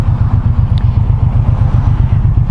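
A Suzuki 1800cc motorcycle engine and exhaust idles steadily close by, a loud, deep, even pulsing throb that carries on without a break and with no voices.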